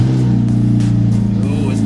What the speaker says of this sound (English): it is going to be freaking loud when I start this car up